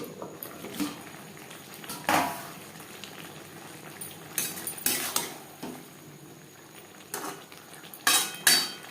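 Four aubergines are stirred in a pan for a low-oil hilsa curry with potatoes: a spoon scrapes and clinks against the metal in irregular knocks over a faint cooking hiss, close by and without speech.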